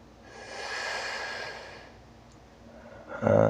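Slow yoga breathing from a person holding a pose: one long, soft airy breath drawn in and let out through the nose, then the start of a stronger breath. Close and quiet, with no talking.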